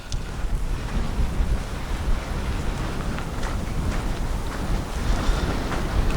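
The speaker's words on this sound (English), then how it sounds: "the wind's kind of blowing straight towards us now" Wind blows steadily across a lake in Pennsylvania, a constant broadband rush buffeting the microphone with faint lapping water beneath, loud and unbroken for several seconds with no voices.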